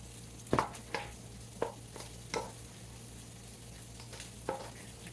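Spoon stirs a creamy gravy mixture with vegetables in a pan, soft wet scrapes and knocks spaced about a second apart, faint and close over a low sizzling hum.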